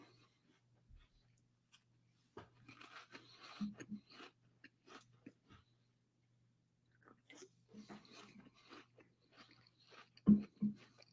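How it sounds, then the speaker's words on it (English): Quiet, close-up chewing of crackers softened with water, with soft crunching and wet mouth sounds in irregular bursts, plus a faint hum in the background. "I'm like chewing as quietly as I can."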